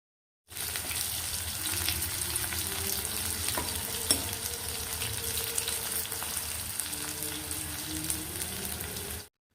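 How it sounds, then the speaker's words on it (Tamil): Steady, crackling sizzle of onions frying in a hot pan, continuous and close, with occasional stirring clicks and no voices. "வெங்காயத்தை போட்டுட்டு நல்லா செவக்க வறுத்துக்கலாம்."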